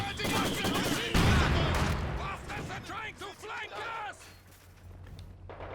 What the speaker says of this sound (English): The models of the weapon crew firing before the machine gun gets the burst in